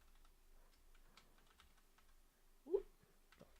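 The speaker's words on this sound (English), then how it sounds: "Typing's fun." Close, quiet typing on a computer keyboard, scattered irregular key clicks over about four seconds with one louder thump near the end, no talking.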